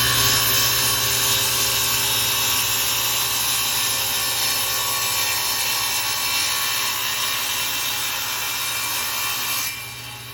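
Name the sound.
saw cutting aluminum in a woodworking sled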